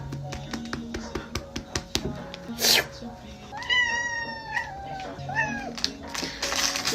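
A pet cat gives a few drawn-out meows midway and again near the end, mixed with quick patting taps on its rump and some nearby talk.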